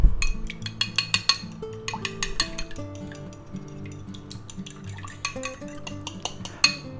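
Eggs, milk, salt and pepper are whisked in a bowl with quick metal-on-bowl clinks and taps against a steady tonal background, close and moderately loud.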